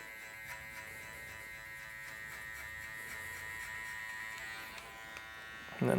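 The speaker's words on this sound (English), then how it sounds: "you've got the clipper angled right under, or right over, so that the teeth flick up and underneath the hairs" An electric hair clipper buzzes steadily and close while cutting a fade, with a constant bright whine and a brief louder rustle near the end.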